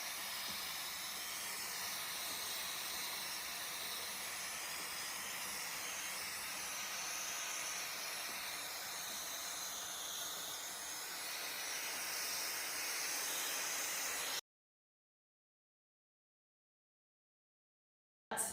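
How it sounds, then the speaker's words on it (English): A Dyson handheld vacuum cleaner sucks dust off the filter of a Winix C545 air purifier, giving a steady, loud whooshing hiss that holds evenly for about fourteen seconds and then cuts off abruptly into silence. "I'm gonna use this Dyson here. And just a handheld vacuum and suck up some of that dust."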